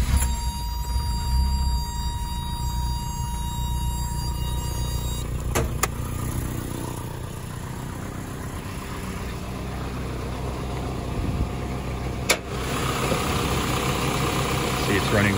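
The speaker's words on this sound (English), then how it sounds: "if you do want to hear the engine" A 1986 Toyota Dolphin motorhome engine runs at a steady idle throughout, a low continuous rumble with a couple of brief clicks, close by.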